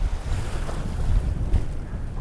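A strong, cold wind in driving horizontal snow roars and buffets the microphone during wing foiling, a loud, continuous low rumble with gusty surges and no voices.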